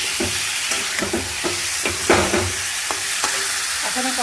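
Fish curry with tomato is stirred in a pan, a continuous sizzle and hiss with repeated scraping strokes of a spoon in a steady rhythm, close and moderately loud without talking.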